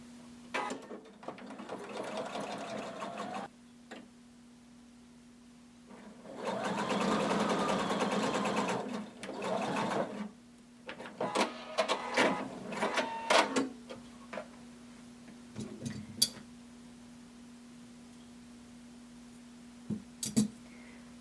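A sewing machine stitches the shoulder seams of a hooded tunic in two steady whirring runs of a few seconds each, followed by soft fabric handling and clicks in a quiet room.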